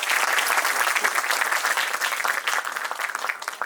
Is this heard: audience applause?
yes